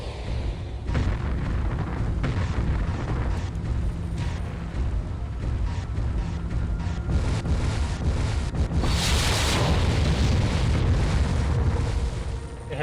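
Missile explosions in the 1999 PC game MechWarrior 3 roar as a continuous dense rumble, with a brighter blast swelling in the middle over heavy low-end battle noise.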